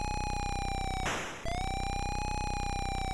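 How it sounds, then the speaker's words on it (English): A synthesized police siren from the Atari ST game Highway Patrol II wails as a loud buzzy electronic tone, cut by a short burst of noise before resuming steadily. "Please, no more sirens, please."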